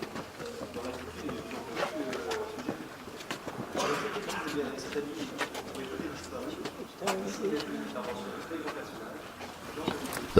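A pigeon coos over the old rooftops of Sarlat in France, soft low repeated calls set against a busy outdoor background with faint voices and scattered knocks.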